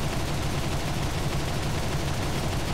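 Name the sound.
aircraft guns firing in War Thunder video game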